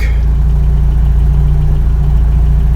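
The engine of a 1985 Toyota pickup idles close by with a steady, loud, low rumble and a faint even vibration, and no one speaks.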